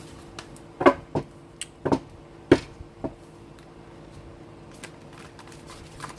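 Large tarot cards being shuffled by hand give a few soft, scattered riffles and taps, irregularly spaced and close up, with quiet pauses between them and no talking.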